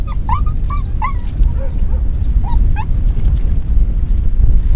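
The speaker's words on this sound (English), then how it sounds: "the dogs are running that hog down this ridge, pushed him over these rocks" Hunting dogs bark and yip excitedly in short, rapid bursts with whimpers while chasing a wild hog outdoors, heard close over heavy rumbling wind noise.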